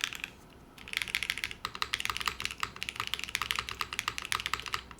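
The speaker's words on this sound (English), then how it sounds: "Like the spacebar already sounds better." Rapid typing on an Epoch 87 mechanical keyboard, close and crisp, with dense clacking keystrokes and occasional heavier spacebar presses in a fast continuous rhythm.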